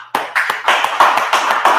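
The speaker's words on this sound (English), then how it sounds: "Clap it up." A group of people clap their hands in a steady, loud rhythm at a Feast of Purim gathering, with about eight sharp claps close by and no talking.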